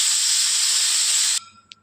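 A pressure cooker whistle releases a loud, steady jet of steam hiss while kabuli chana cooks, cutting off abruptly after about a second and a half into near quiet with a faint click.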